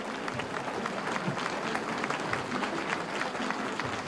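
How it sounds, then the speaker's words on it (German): Loud, sustained applause fills an overcrowded hall in Marzahn, East Berlin's largest concrete-slab housing estate, as a packed audience claps steadily for Diepken throughout, dense and unbroken. "Der Saal ist überfüllt und der Beifall für Diepken entsprechend."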